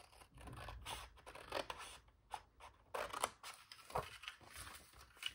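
Scissors cut paper pieces in a run of quiet, close snips and scrapes with short pauses between cuts, and the paper rustles faintly as it is handled.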